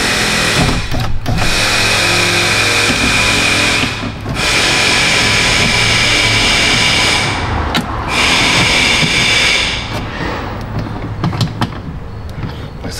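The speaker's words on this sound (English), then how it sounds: "Air hammering." An air hammer rattles in long, loud continuous bursts in a shop during work on a car's front door, pausing briefly between runs, with no talk over it.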